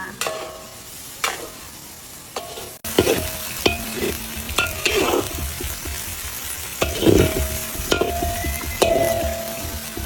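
Foraged wild eggplant is stir-fried in a pan: repeated spatula scrapes and clacks over a continuous, moderately loud sizzle, with one sharp knock partway through and no talking.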